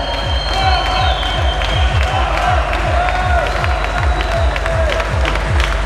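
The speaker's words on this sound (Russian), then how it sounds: "Ваши аплодисменты" A large crowd at a combat sports fight cheers and applauds continuously, with whoops and shouts over a steady pounding rhythmic beat.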